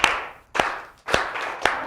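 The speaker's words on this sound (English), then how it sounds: "this last time we're going to clap for all five letters" Hands clap in a steady rhythm at a library children's story time, singing along to the Bingo song. Four sharp, close claps land about half a second apart with no talking over them.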